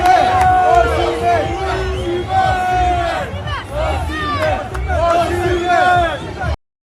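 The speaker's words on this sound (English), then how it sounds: "See fans are booing him." Football crowd in a stadium booing a player, a loud sustained roar of jeers and shouts rising and falling, with a voice talking over it.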